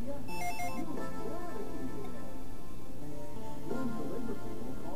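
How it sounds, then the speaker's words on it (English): A telephone rings in a living room in the video game Dragon Ball Z: The Legacy of Goku 2, a short burst of electronic ring tones at the start over steady game music, with a fainter repeat later. "The phone is ringing in the living room."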